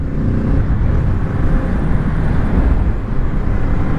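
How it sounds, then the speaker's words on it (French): A Kawasaki Z650 A2 motorcycle's engine and exhaust give off a loud, steady, deep rumble that holds unbroken for the whole stretch, with no voices over it. "ça ajoute un peu de caractère en plus du bruit de l'échappement et du moteur"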